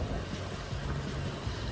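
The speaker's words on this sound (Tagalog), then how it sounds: "Naku, ang hangin." Wind gusting outdoors beside a lawn, a steady broadband rumble buffeting the microphone for the whole stretch, loud and close with no talk over it.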